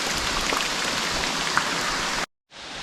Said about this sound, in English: just a lot of wind and rain